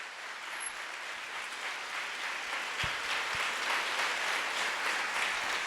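A church congregation at a Sunday service claps together in sustained, even applause that fills the room without pause, with a couple of faint low knocks underneath.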